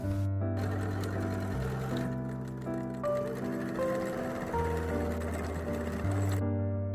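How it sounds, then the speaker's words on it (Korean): Sewing machine running steady stitching along a 1 cm seam while making a fabric bucket bag, a continuous motor whir with brief pauses, close and fairly loud. "그리고 1cm 박음질 해줍니다."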